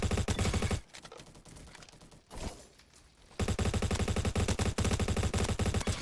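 Honey Badger rifle in a video game firing loud, rapid automatic bursts up close, with a quieter lull in the middle before the sustained fire resumes.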